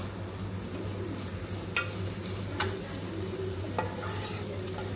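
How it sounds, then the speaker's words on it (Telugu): Onions frying in a pan for a fenugreek-leaf (menthi aku) fry, giving a steady close sizzle with a few brief stirring scrapes, no talking. "ఆనియన్స్ వేగిన తర్వాత ఫ్రై చేసుకోవాలి మంచిగా"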